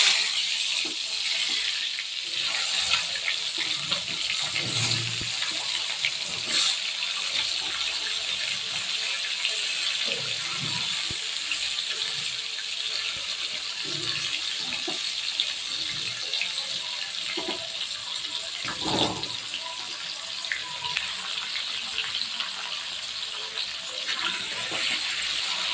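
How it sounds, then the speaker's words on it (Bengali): Spiny gourd (kakrol) pieces fry in hot mustard oil in a wok, a continuous even sizzling hiss with a few louder crackles, no talking. "কাঁকরোলগুলোকে ভাজা বসাবো।"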